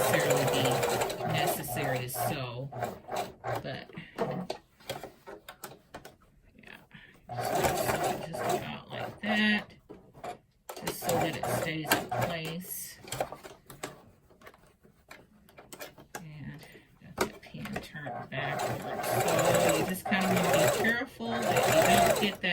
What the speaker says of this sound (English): Those pins is just showing me where I need to sew that to keep that in place.